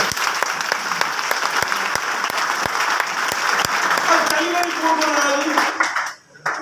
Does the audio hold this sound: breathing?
no